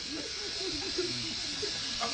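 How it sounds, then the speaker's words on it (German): Cordless battery electric shaver held near a wall as a makeshift cable finder, giving a faint, steady electric buzz with a slightly wavering pitch over about two seconds, with no voices. "Das Geräusch eines Rasierers verändert sich, wenn man sich einer Leitung nähert."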